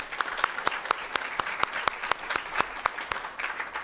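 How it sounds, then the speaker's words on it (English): A school board meeting audience claps for district staff, a steady patter of hands with distinct sharp claps standing out over a few seconds, moderately close. "Let's do another applause for them"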